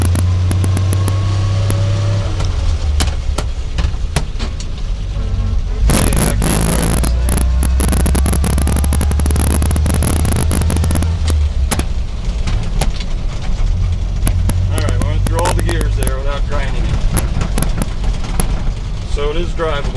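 A 1948 Ford F1 truck engine runs loud and steady while driving, with a burst of harsher revving and clunks partway through as a gear is shifted, and a voice talking over it at times.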